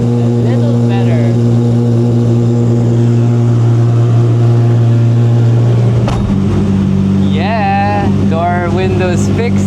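An Acura NSX engine idles steadily while warming up, a loud, deep, even drone that holds throughout, with a shift in tone partway through and faint voices over it.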